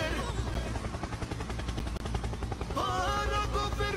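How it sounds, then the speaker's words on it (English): A helicopter in the Roblox video game: a loud, continuous rhythmic rotor chop that holds steady, then shifts pitch upward toward the end. "helicopter, helicopter"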